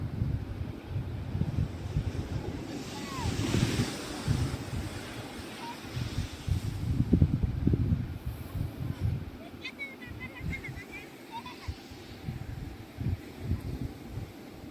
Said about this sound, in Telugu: కెరటాలు బాగా పడుతున్నాయి కదా